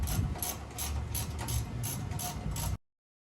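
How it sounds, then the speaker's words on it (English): A 3/8-inch ratchet drives standard sockets on the front wheel hub of a 2003 Dodge Ram 1500 2WD, giving close, rapid bursts of clicking in a steady back-and-forth rhythm, about nine strokes with nothing else audible. "I'm choosing to use standard sockets as well as a 3/8 ratchet instead of a 1/2 inch"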